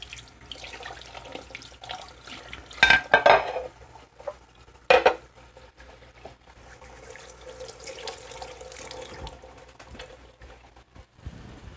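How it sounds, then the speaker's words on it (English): Running water from a kitchen sink faucet while a pan used for browning steak is rinsed, with a couple of brief clatters of metal against the sink over a steady low hiss of flowing water. "We'll put this in the sink and wash it off a little bit."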